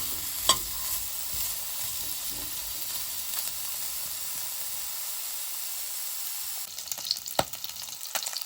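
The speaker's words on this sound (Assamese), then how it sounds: "মাংসৰ পৰা নিজে ওলোৱা তেলটোতে আজি বনাম আৰু এনেকৈ তেলটো অকনমান ওলাবলৈ দিম" Pork pieces sizzle and fry steadily in their own rendered fat, a constant close hiss with scattered pops and a few sharper crackles near the end, and no one talks.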